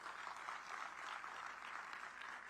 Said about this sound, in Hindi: बच्चियां जरूर जोर से तालियां बजाएं